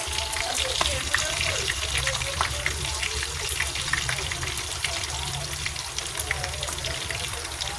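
Fried tofu pieces for tokwa't baboy crackle and sizzle steadily in hot oil, a loud, continuous spitting hiss with sharp pops, and a voice speaks briefly underneath.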